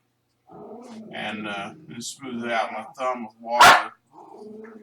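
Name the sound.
dogs barking and growling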